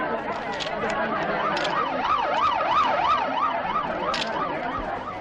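Ambulance siren in a Kannada film scene, a wailing tone rising and falling in rapid regular cycles, fairly loud and steady over a low background rumble.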